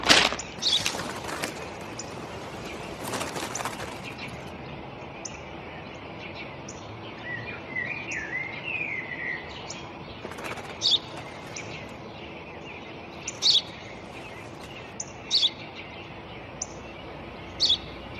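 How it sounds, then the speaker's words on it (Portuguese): Small bird chirping: brief, sharp, repeated high chirps spaced irregularly over a faint steady background hiss, with a few louder calls early on and soft isolated tweets later. "Eu já te disse, pai, é um pássaro."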